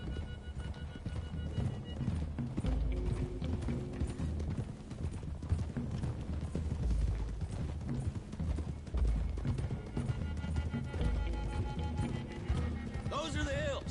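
Steady rhythmic hoofbeats of galloping horses in Red Dead Redemption 2 run throughout, loud and continuous, with occasional whinnies over a dense low rumble; a voice speaks underneath.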